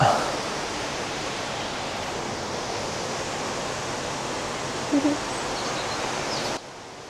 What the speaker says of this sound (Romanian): Se aude cascada, pare că suntem foarte aproape de ea